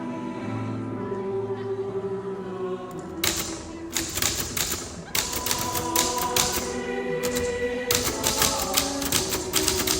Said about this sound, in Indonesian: izinkan saya mengetik naskahnya